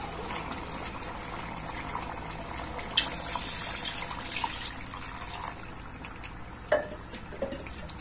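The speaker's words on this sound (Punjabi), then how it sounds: "ਦੋ ਕੱਪ ਅਸੀਂ ਭਰ ਕੇ ਪਾਣੀ ਪਾਵਾਂਗੇ" Water is poured from a cup into a cooking pot for rice, a soft steady trickle with a couple of brief splashes, fairly faint and close, with no talking.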